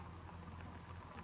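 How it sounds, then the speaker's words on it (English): Rain falls steadily outside, a faint, even hiss with no distinct drops or voices, continuous across the whole short stretch. "It's just rain."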